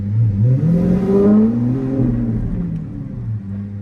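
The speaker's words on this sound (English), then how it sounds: "if I put it into first gear, now you're gonna hear it rev up when I drive forward" Supercar electric motor revving up in first gear as the car pulls forward, a rising whine climbing in pitch over a low rumble, close and steady, then easing off.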